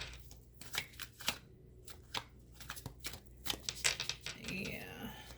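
A deck of reading cards being shuffled up close: repeated bursts of riffling and slapping flutters in an irregular rhythm, with quiet handling between shuffles, fairly soft overall.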